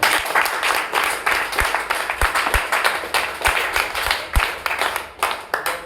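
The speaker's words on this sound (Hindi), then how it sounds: "एक जोरदार तालियां" Applause from a Hindi-speaking audience at a health and business seminar, a steady crowd clapping with sharp individual claps standing out, loud and sustained for several seconds with no talk over it.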